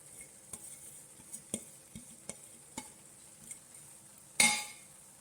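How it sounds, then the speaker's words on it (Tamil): A spoon stirs mango and ginger pickle cooking in a pan on low heat as grated ginger goes in, giving faint sizzling, soft scraping and a few light metallic clinks, then one sharper clatter. "இப்போ நம்ம துருவி வச்ச இஞ்சியும் போட்டுடலாம்"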